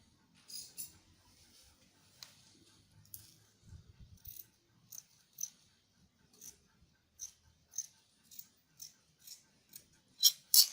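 Fabric scissors snip out the neckline of an off-shoulder wrap top, producing a series of close, crisp cutting clicks in an irregular rhythm, growing louder toward the end.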